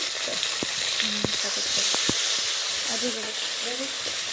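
Chopped onion, fried potatoes and tomato sizzle in a frying pan for a raw jackfruit paneer curry, with a steady close hiss and scattered scrapes and taps of a spatula stirring.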